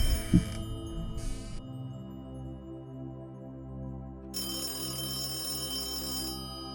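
A telephone rings in two bursts of bright electronic trilling over a low steady hum, moderately close, with a soft knock at the start.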